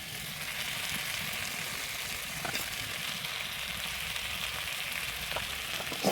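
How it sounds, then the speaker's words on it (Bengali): Fish and mixed vegetable curry with small fish stirred in a pan, a steady, even sizzle of frying throughout with faint scrapes of stirring. "একটু নেড়ে দিব।"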